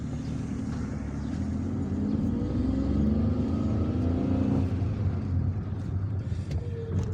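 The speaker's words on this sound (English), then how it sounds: "So I'll show you how to drive from this town to the city center." Car engine rumbling steadily through a drive in Algiers, from Ouled Fayet toward Champ de Manoeuvres, a continuous low road and engine drone with mild revving, moderately loud and unbroken throughout.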